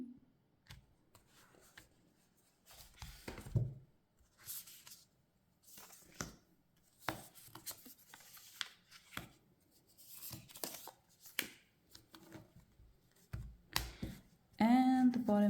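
Tarot cards are cut into three piles, giving a run of soft, scattered card slides, taps and shuffling rustles at close range, with quiet gaps between handling bursts and a brief voice near the end.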